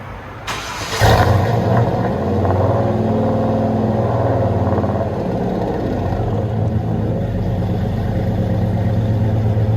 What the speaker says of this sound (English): Look at that idle on this thing.